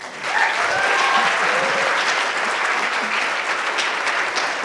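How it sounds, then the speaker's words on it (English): Audience applause for the evening's host at the WE Innovate Grand Final 2024 awards event, a sustained, fairly loud wash of many hands clapping that builds quickly and holds steady. "could we also give a round of applause for our amazing host this evening?"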